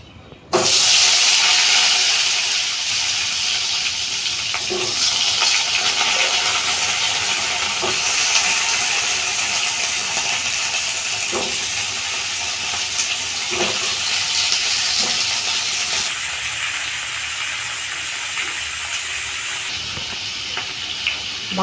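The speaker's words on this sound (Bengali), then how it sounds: "এবার এই কুমড়োগুলো ভেজে নেব।" Pumpkin pieces frying in oil in a pan, a loud, steady hiss and sizzle that continues throughout, with faint clinks of a utensil scattered through it.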